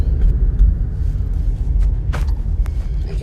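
A car drives along a road with a heavy, steady low rumble of engine and tyres heard from inside, with a few faint clicks and no talking.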